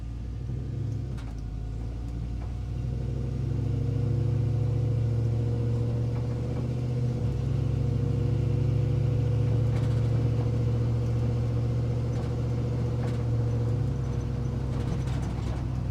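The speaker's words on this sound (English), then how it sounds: "Maybe you can hear the electric fans." Electric cooling fans whir on an idling, fully warmed 1965 GMC Suburban with an LS engine swap, a steady low drone blended with the engine's even idle rumble, continuous and unbroken with no talking.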